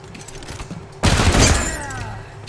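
Gunfire in the video game Wasteland 3 erupts after a quieter stretch, a loud crack followed by a dense rattling volley and ringing decay, close and heavy.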